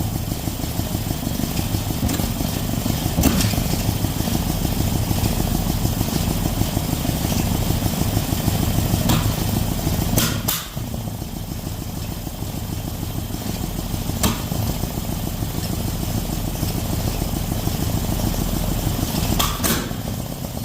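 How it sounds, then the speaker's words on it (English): A Datsun engine with a makeshift coil-on-plug setup idles roughly and loudly up close, its uneven running broken by a few sharp pops from the intake manifold. "you see that pop out of that intake manifold, man"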